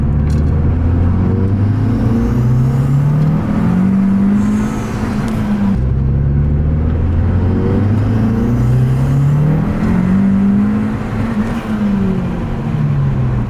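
Tuned Abarth 595 hybrid turbo, upgraded from about 148 to 240 brake horsepower, accelerating hard, its engine note climbing through repeated rising pulls with brief gear-change dips, loud and close from inside the car.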